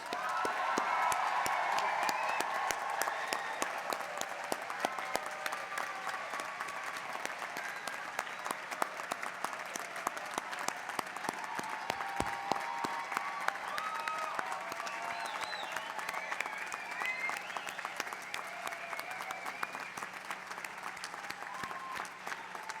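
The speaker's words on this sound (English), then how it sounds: "let's give them a gigantic round of applause" Audience at a graduate commencement ceremony giving the graduates a long round of applause, many hands clapping steadily at a moderate distance, sustained and even for over twenty seconds.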